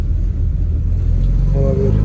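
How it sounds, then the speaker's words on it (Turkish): A car engine idling and revving by itself as low, steady rumble with a rising whine near the end, heard from inside or beside the vehicle. "Araba şu an gaz veriyor ama kendine."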